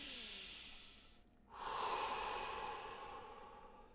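A slow breath in and out during a guided meditation, soft and close with a quiet pause between inhale and exhale, no talking over it.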